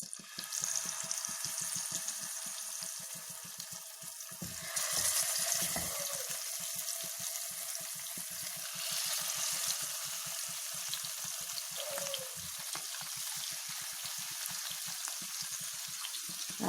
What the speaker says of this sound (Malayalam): വെളിച്ചെണ്ണ നന്നായിട്ട് ചൂടായിട്ട് വരുമ്പോഴത്തേക്ക് നമുക്ക് മീൻ ഇതിലേക്ക് ഇട്ട് കൊടുക്കാം.